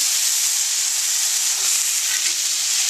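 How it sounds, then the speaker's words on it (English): Pork loin chops searing in a hot pan, a loud, steady, close hissing sizzle filling the whole moment without a break. "I'm going to sear the sides very briefly."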